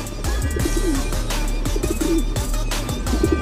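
Racing pigeons at a club loft coo repeatedly, soft rhythmic throaty calls from several birds overlapping close by over a steady low background hum.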